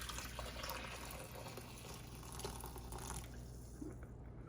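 Boiling water pours steadily into a measuring cup, a continuous soft gushing fill that fades out near the end.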